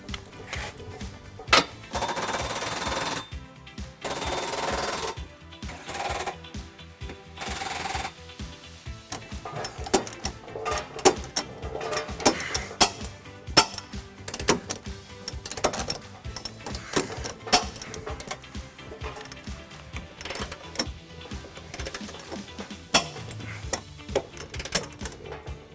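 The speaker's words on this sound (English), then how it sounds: "we're going to use our torque wrench to finish off all the torquing on it" A torque wrench with a 21mm socket tightens the trailer hitch bolts on a 2011-2021 Jeep Grand Cherokee, giving rapid, close ratcheting clicks in repeated bursts throughout.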